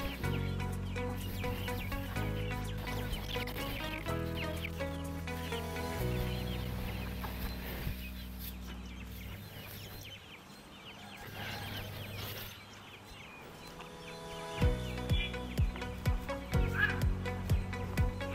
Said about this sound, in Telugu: జాతి కోళ్ళు